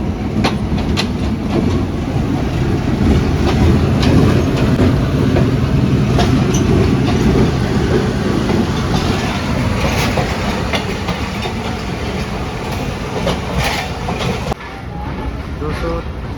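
The Pakistan Express passenger train running on the rails, a loud steady rumble with rhythmic clickety-clack of wheels over track joints, heard from inside a coach, with a voice speaking over it.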